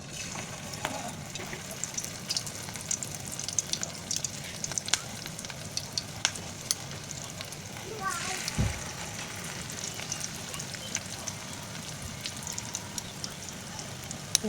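Cheese rolls frying in oil give off a steady, fairly quiet sizzle resembling light rain, with occasional crackles and a brief thump partway through.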